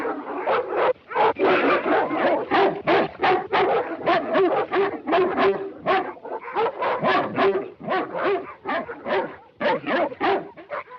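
A dog barks in a rapid, dense series of loud yips and whimpers, close and nearly continuous for several seconds in a snowy 1930s northern wilderness setting.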